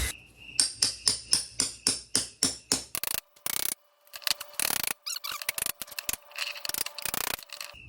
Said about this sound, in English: I'm gonna use a drill and try to get it out there